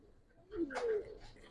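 A pair of Giribaz pigeons, including a silver one, gives a soft low coo partway through, near but quiet, with indistinct talk and room noise around it.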